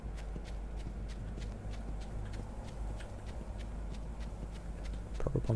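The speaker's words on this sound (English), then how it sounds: "The horse is so close." Horse hooves clip-clop in the Loomian Legacy video game, a steady run of light, regular taps over a constant low game hum, fairly quiet throughout.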